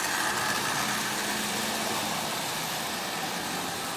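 A Marx 595 toy train locomotive runs smoothly at about 40% power, pulling ten tin litho cars, a steady continuous motor whir and rolling rumble with no breaks.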